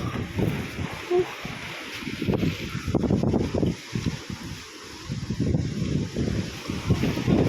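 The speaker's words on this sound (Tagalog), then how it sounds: "Grabe lakas ng sandstorm oh." Strong sandstorm wind in Libya buffets the microphone in heavy, irregular gusts, a loud rumbling roar that surges and dips throughout at close range.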